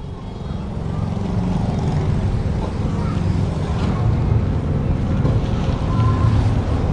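A banana chopping machine driven by a 5.5 HP petrol engine runs steadily, a loud continuous mechanical drone with a low rumble that holds constant throughout.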